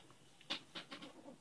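A pet bird gives a few short, bright chirping calls indoors, spaced unevenly, close by but faint, with no talking over them.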